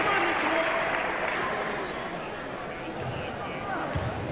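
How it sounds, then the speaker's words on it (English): Basketball fans of the Pack applaud in a 1999 playoff game between Regina and Manitoba, a steady wash of clapping and crowd noise from a large arena, fairly distant and sustained, with faint crowd chatter mixed in. "Gets a nice round of applause here from the fans of the Pack."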